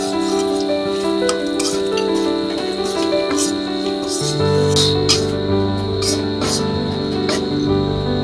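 Onion, garlic, turmeric and coriander powder frying in a pan for a masoor dal with drumstick leaves, a steady loud sizzle with occasional clinks of a stirring spoon against the pan.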